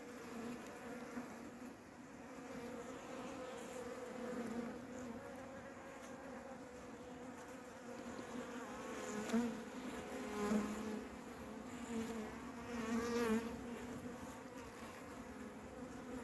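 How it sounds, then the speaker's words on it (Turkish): A honeybee buzzes steadily and close for a long stretch at a beekeeping site, its drone wavering and swelling in loudness now and then. "Arı oradan girdi."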